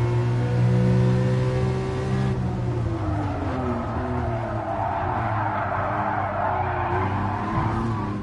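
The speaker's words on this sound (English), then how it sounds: "Oh, he crashed into me." In Gran Turismo Sport, modern Ferrari race cars scream past with high engine whine and prolonged tire squeal as one skids, tones sliding and wavering, loud and close, with no clear single crash impact.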